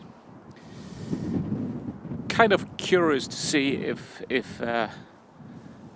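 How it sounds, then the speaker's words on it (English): Wind buffets a Sennheiser MKE 400 camera-top microphone fitted with a furry windscreen outdoors, a low rumbling gusting under a man's nearby speech. "it's quite windy today"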